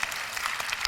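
An audience at a Christian conference breaks into brief, dense applause, a short burst of many hands clapping.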